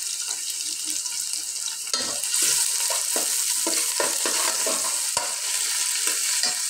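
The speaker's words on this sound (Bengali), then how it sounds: "এরপরে দিয়ে দিব আমি পেঁয়াজ কুচি" Chopped onion frying in hot oil for Sylheti akhni, a steady close sizzle broken by repeated scraping stirs of a spoon through the pan.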